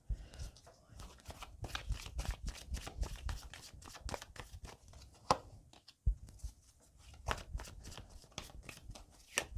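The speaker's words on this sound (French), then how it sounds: "Je finis de mettre les cartes." Tarot cards are laid out one by one with soft, close snaps and slides, in a quiet, irregular rhythm, and a voice talks faintly underneath.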